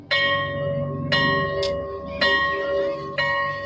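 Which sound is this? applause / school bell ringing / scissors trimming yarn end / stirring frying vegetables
school bell ringing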